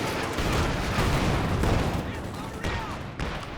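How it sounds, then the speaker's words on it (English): In a Company of Heroes 2 match, bazookas and an AT gun fire on a tank, making a dense run of booming shots and rumble that is loud and close, with overlapping impacts and no clear pauses. "the bazookas plus the AT gun finishing the job there"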